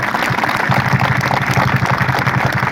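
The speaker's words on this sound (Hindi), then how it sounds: "एक बार जोर से ताली बजाओ" Audience at a religious gathering clapping loudly, a dense, continuous burst of many hands with a slight rhythmic pulse, filling the whole moment without speech.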